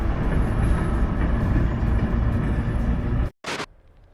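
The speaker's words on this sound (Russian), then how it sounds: "Первый раз вижу, что здесь поезд ездит." Train rolling past on a railway, a loud continuous rumble and rattle of wagons that fills the clip before cutting off abruptly, followed by a brief burst of noise and quiet.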